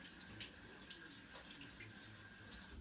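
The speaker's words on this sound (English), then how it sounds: "Let me wash off my hands." Running tap water splashes steadily into a sink as hands are rinsed clean of chocolate in a kitchen, a continuous close wash of water with no talking.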